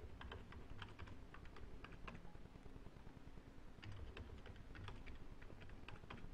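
A computer keyboard is typed on at close range in short bursts of quick, light clicking keystrokes with brief pauses between, as a password is entered; quiet and with no talking.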